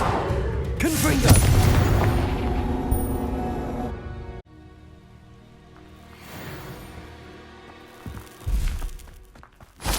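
A Confringo explosive spell in Hogwarts Legacy goes off in loud, booming blasts, with a dense crash of impacts early on, a quieter rumbling stretch, then further sharp bursts near the end.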